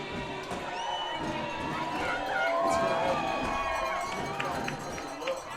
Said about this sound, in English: John Mark Takini got the crowd going with a 65-yard interception return of a pass from Aaron Franklin of Klamath Union.